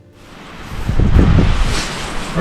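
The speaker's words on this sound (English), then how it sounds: "we got a real windy day here. It is just blowing around like the dickens." Strong wind buffets the microphone outdoors at a telescope observing pod, a low, gusty roar that builds over the first second and then holds steady and loud, with no voices.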